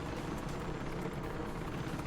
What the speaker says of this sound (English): And this is the K-Sec chopper. Beats a whole helicopter.